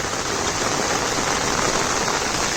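Heavy monsoon rain pours down steadily in the Konkan countryside, a loud, dense, unbroken hiss of downpour with no pauses throughout.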